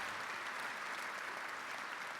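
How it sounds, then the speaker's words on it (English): Sustained applause from a large dinner audience at the 2026 Calgary Leader's Dinner for the Alberta Premier, a steady, even roar of many hands clapping in a big hall, heard alone without talk. "let's give another round of applause for our Premier, Honorable Premier Danielle Smith."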